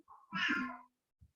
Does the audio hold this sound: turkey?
no